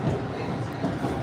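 An MBTA Red Line subway train runs with a dense, continuous rumble and rattle of wheels on track, loud and close throughout with no speech.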